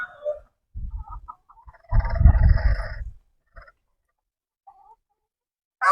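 Chickens on a small farm, kept alongside cows, give short clucks and one louder burst of cackling, with quiet gaps between calls and no talking.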